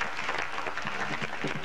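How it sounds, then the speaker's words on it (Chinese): Studio audience applause for a pair of student singers on a 1983 Taiwanese college television singing contest, a short burst of steady clapping that fills the room with no talk over it. "我让你掌声欢迎他们两位。"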